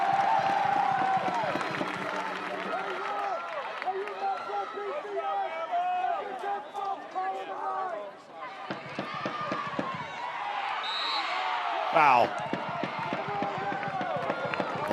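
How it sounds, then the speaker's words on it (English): Alabama fans applaud at a college women's soccer match against South Carolina, a broad crowd wash of clapping and cheering that runs throughout under a commentator's continuous play-by-play talk. "And good applause here from the Alabama fans"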